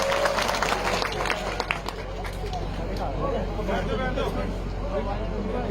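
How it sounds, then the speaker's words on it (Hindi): A crowd at a public gathering in India claps to welcome the chief guest. Dense applause mixes with crowd murmur and voices and carries on steadily for several seconds. "सभी से निवेदन करूंगा कि तालियों के साथ, जोरदार तालियों के साथ इनका स्वागत करें"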